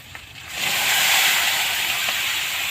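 Vegetables tipped into hot oil already seasoned with fish, for Bengali pui-mitsuri, set off a loud, steady broadband sizzle. It swells after a brief quiet start and then holds strong and even, with no voices.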